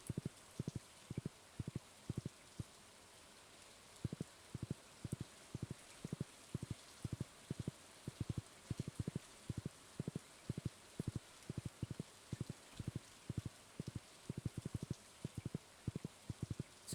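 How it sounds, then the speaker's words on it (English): Steady rain falls in the farming game Stardew Valley, a soft continuous hiss behind a rapid, uneven patter of drips and taps that runs throughout with no voices. "So many leaks when it's raining."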